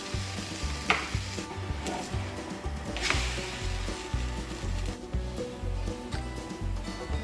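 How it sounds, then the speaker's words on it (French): Chocolate pancake batter cooking in a hot crêpe pan, with a steady low sizzle and frying crackle across the whole stretch and occasional soft scraping. Nobody speaks. "Il suffit ensuite de les faire cuire donc dans une poêle chaude. Donc moi j'utilise une crêpière, enfin une poêle à crêpes et je le fais couler au centre."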